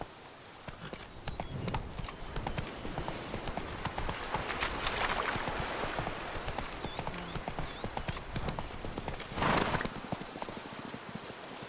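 Horse hooves gallop in a rapid, continuous clip-clop through the Witcher 3 Blood and Wine video game, loud and close, with ambient game sounds, faint birds and a brief louder burst near the end.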